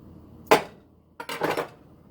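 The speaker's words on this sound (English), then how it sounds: "Cutting it with the knife is working well, so I might save the guitar string for the future." A knife cuts through a freshly made block of cold process soap, producing two brief scraping, thudding strokes about a second apart, close and fairly soft with quiet pauses around them.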